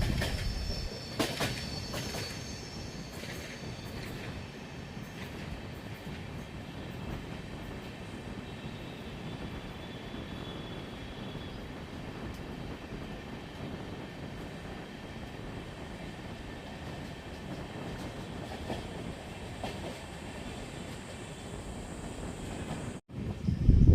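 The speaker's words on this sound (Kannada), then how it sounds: "ನಮ್ಮ ಟ್ರೈನ್ ಈಗ ಜ್ಞಾನಭಾರತಿ ರೈಲ್ವೆ ಸ್ಟೇಷನ್ನ ಸ್ಲೋ ಆಗಿ ಸ್ಕಿಪ್ ಮಾಡ್ತಿದೆ" The Chamundi Express rolls slowly through Jnanabharathi station, a steady low rumble of wheels and carriages with a faint squeal, ending in a sudden loud burst.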